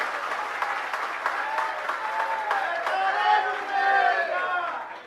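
A large audience at a Jain religious discourse claps loudly and continuously for several seconds, a dense steady roar of hands with some voices mixed in.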